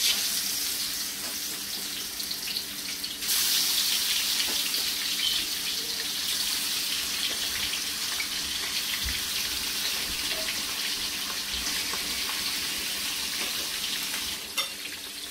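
Marinated rohu fish, coated in turmeric and salt, sizzles steadily in smoking-hot mustard oil. The frying hiss is loud and continuous and grows stronger after the first few seconds, with small pops and no voices.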